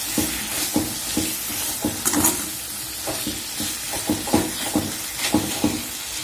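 Fried bitter gourd pieces being stirred in a pan for a curry, with a steady sizzle under repeated rhythmic scraping strokes of the spoon, close and clear, with no talking.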